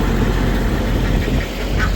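Backyard ducks quack close by at feeding time, a continuous dense chatter over a low, rumbling background drone.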